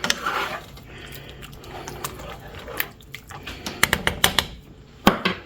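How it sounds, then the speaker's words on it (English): A pot lid set back onto a simmering pot in a home kitchen, giving a few sharp metallic clinks and clatters near the end amid light kitchen handling noise. "And put your lid back on."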